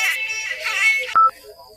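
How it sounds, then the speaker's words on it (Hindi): In a TV drama, after a burst of music, a short electronic phone ringtone beeps once, clear and close, then fades to quiet. "किसका फोन आ गया?"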